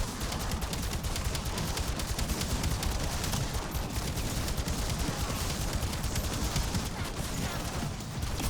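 Single-fire shots in Black Ops 7 Zombies ring out steadily and loud, a rapid, even stream of close gunshots running the whole time with no talk.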